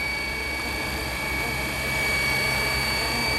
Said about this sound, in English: I'm hovering in GPS, not touching the sticks, and the heli is just sitting there